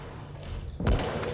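A tank in a tank video game takes a hit from an enemy shot, a sudden heavy thud that lands over a steady low background hum and then trails into a rumbling wash.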